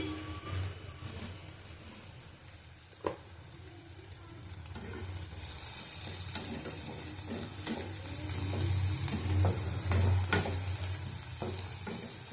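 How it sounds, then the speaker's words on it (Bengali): Onions frying in a pan for a potol posto dish, a soft steady sizzle that grows louder and brighter toward the end, with occasional clinks of a utensil stirring. "আবার ভালো করে ভেজে নিলাম"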